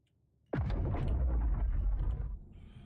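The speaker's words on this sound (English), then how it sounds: "I keep hearing explosions when I'm trying to dock in a hangar" A single loud explosion in the Star Citizen video game as a ship blows up near a hangar: a sharp, close blast followed by a deep rumbling roar that holds for about two seconds, then drops off sharply.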